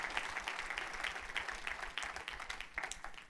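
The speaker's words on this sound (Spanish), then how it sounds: "Denle un fuerte aplauso al Rey de la Gloria conmigo en este momento." A church congregation claps and applauds together, a dense, fairly quiet patter of many hands sustained for a few seconds.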